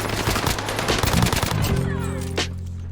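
Rapid automatic gunfire from the H4 rifle in a first-person shooter video game, a loud close burst of shots that ends with a short mechanical tail.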